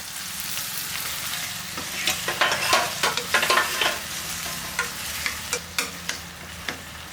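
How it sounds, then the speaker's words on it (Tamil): Four medium tomatoes sauté in a pan for tomato kurma, a constant close sizzle broken by repeated sharp spoon knocks and scrapes, with no talking. "இந்த தக்காளி நல்லா வதங்கட்டும்."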